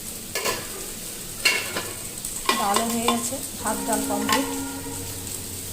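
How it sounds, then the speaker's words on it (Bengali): Bitter gourd (ustho) frying in a pan, with several loud bursts of sizzling and stirring spread through a home kitchen scene while a person talks over it. "উস্তোগুলো ভেজে নিচ্ছি, তারপর মিষ্টি কুমড়োগুলো ছেড়ে দেবো।"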